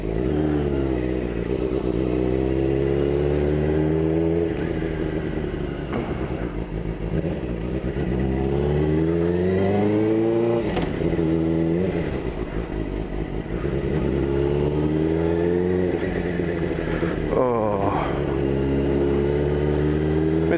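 A motorcycle ridden at speed while its new brakes are bedded in, the engine droning loudly and continuously with repeated rising and falling revs as it accelerates and slows, no talk.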